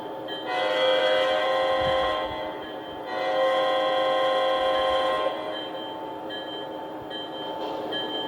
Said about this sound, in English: Oh, the train brake.